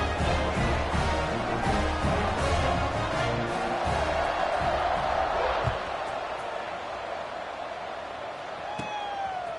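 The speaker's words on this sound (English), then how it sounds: "this crowd is buzzing after that last score" A football stadium crowd buzzes loudly after a touchdown, a broad sustained roar with scattered shouts and thumps that eases slightly toward the end.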